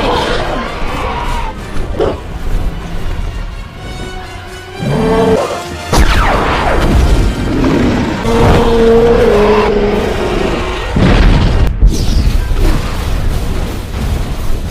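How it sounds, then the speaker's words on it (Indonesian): A dragon's gas ignites and explodes in a film scene from How to Train Your Dragon, heavy booming blasts and crashing rumble sustained over many seconds within a dense cinematic mix. "akhirnya berhasil membuat gas pada tubuh naga meledak"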